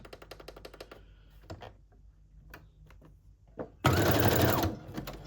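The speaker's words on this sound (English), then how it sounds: "And I'm gonna do a zigzag stitch." A sewing machine running a zigzag stitch over a lace appliqué, heard as short rapid bursts of ticking stitches between pauses, then a louder, denser stretch of continuous sewing near the end, close and alone.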